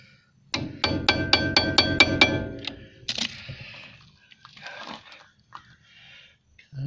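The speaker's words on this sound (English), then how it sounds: "A little bigger convincing screwdriver, put it on the head of that pin" A screwdriver is tapped with a hammer against a brake pad pin on a Mercedes-Benz ML, making a quick run of about six ringing metallic strikes, then scraping and clinks as the pin works loose, close and without talk.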